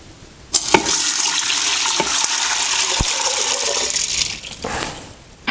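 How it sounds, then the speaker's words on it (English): About six cups of water gush steadily into an Instant Pot holding chickpeas for several seconds, loud and close, with a few clunks at the start and end. "Then we're going to add about 6 cups water."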